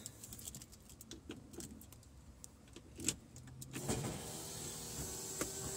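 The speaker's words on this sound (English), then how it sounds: "Get my key in here." Key jingling and clicking into the ignition of a 1939 Studebaker pro street car, a series of light metallic taps and rattles close by, followed by a louder click and a faint electrical hum as power comes on.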